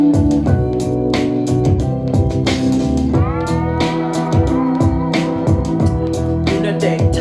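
Music playing through a DOSS SoundBox XL DS-1685 Bluetooth speaker, with a full, heavy bass line under rhythmic beats and melodic layers, loud and close.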